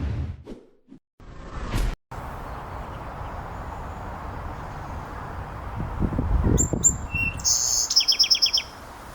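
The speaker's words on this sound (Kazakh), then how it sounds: "Торғай." A sparrow chirps in short bright bursts near the end, preceded by a low outdoor rumble with rustling and a few soft knocks; the calls are clear but brief and moderately close.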